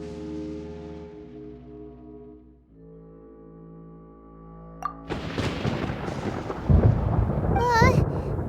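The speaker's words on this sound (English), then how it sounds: "Paimon hears thunder!" Thunder in the video game Genshin Impact: after a stretch of low, droning tones, a loud, rolling crack breaks out and keeps rumbling, with a brief higher sound near the end.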